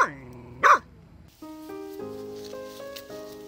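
A feral mother dog guarding her pups near a forest water channel gives two short, sharp barks close by, followed by soft background music.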